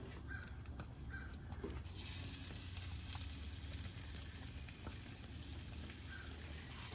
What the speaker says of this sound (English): on this side, put that sausage down